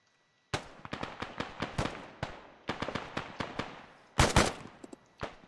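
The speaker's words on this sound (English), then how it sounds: "There's like they're shooting at each other out there." Gunfire from the video game Arma 3: bursts and single shots crackle at a distance in irregular clusters, with one louder, denser volley near the end; no talk over it.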